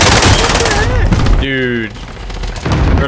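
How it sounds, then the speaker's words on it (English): Gunfire in a first-person shooter video game: a dense opening burst of rapid shots, a brief electronic tone, then more shots returning, loud and close, with excited voices talking over it. "Taking shots."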